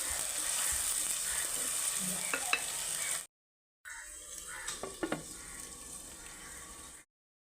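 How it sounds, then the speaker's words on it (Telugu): Two onions and three green chillies fry in oil with a continuous hiss and occasional spoon scrapes. A brief silent gap interrupts the sizzling before it resumes more quietly, then it cuts off. "ఈ గోల్డ్ కలర్ వచ్చేదాకా మనం వేపుకుందాం బాగా ఎర్రగా."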